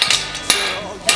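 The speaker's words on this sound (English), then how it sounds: "whenever I get to an angle, I'm going to hammer back until my hammer starts hitting at that training wheel" A hammer strikes a hind horseshoe on the anvil while forging, three sharp metallic blows spaced about half a second apart, close and loud with brief ringing between them.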